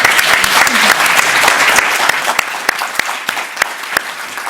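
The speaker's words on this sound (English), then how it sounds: "join me in giving a final round of applause to our panelists" An auditorium audience applauds a panel after a discussion on states of fragility, with dense, steady clapping that holds loud throughout and sharp individual claps popping out near the end.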